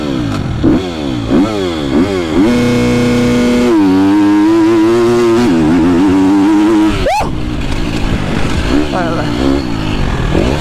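A KTM racing motorcycle launches from a start, its engine revving hard and climbing through its gears, the loud rising whine sweeping up repeatedly as the bike pulls away close by.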